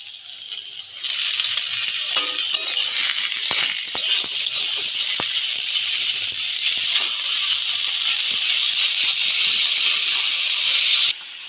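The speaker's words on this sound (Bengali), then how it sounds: "এবার আমি শাকটা দিয়ে দেবো, মেথি শাকটা দিয়ে দিচ্ছি।" Fenugreek greens land in a hot frying pan that already holds fried eggplant, setting off a loud, steady sizzling hiss that holds for about ten seconds before cutting off abruptly. Faint clinks and scrapes show through the hiss.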